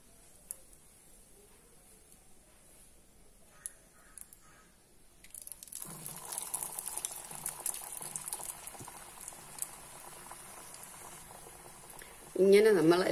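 Pumpkin cutlets fry in oil, a quiet room giving way midway to a steady bubbling sizzle that swells louder in the final moments.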